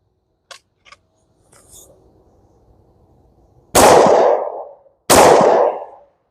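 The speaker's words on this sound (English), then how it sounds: "Maybe let's go center mass one shot, and then we'll go up to the head for one shot" Two loud, sharp 10mm pistol shots fired with CCI Blazer aluminum-case ammunition crack about a second and a half apart, each ringing out briefly. A few faint clicks and handling noises come before them.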